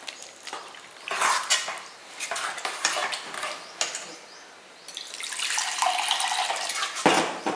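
Water splashes into a pan of vegetable kurma, with clinks of a metal spoon stirring and scraping nearby; a steady pour fills the latter half.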